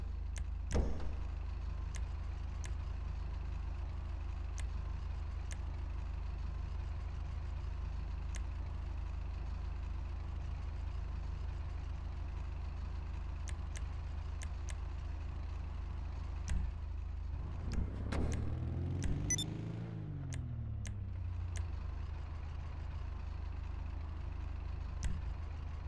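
A car engine idles steadily in Grand Theft Auto V, a low constant rumble with faint clicks, rising briefly into a swelling rev near the end before settling back.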